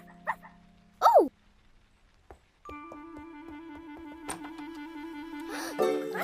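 A wet dog in a rainy scene yips and barks in a few scattered bursts, then a steady tonal musical passage plays under further faint noises.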